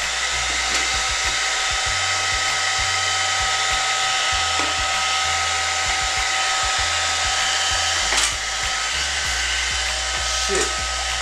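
A heat tool blows steadily on a broken Xbox, a constant loud airy whoosh with a hum underneath, with faint knocks and small handling sounds.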